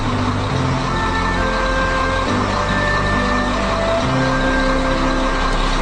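A HOWO dump truck runs with its power takeoff engaged to lift the dump body, producing a loud, steady engine and hydraulic drone with shifting tonal whine, close and continuous.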